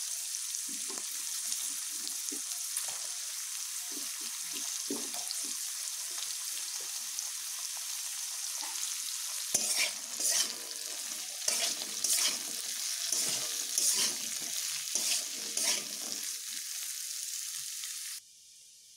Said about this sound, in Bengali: শিম আর পটলগুলো আমি একসঙ্গে ভেজে নেব।